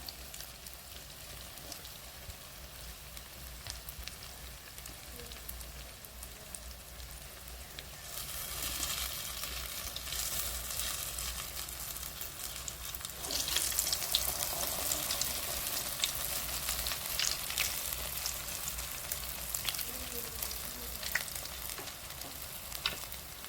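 Medu vada, urad dal fritters, deep frying in hot oil, a steady close crackling sizzle that swells louder partway through and keeps going with no talking.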